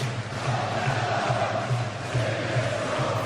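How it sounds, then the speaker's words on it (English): Arena crowd at a welterweight boxing bout in the ninth round, rising in a steady, dense roar of cheering and chanting that fills the whole stretch at constant loudness. "Crowd's starting to rev up Ricky Hatton with their chance."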